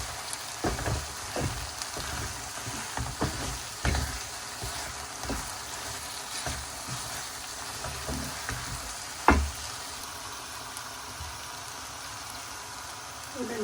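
Masala bhindi (okra) sizzling in a pan while being stirred and mixed, a loud continuous fry with repeated scraping strokes and a sharp clink near the end, no talk.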